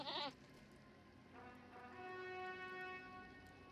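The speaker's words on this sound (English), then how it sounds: "Your goat's not gonna be able to keep up." A goat mount in the Lord of the Rings Online video game bleats, one sharp bleat at the start followed by a longer wavering bleat, fairly faint over game background sound.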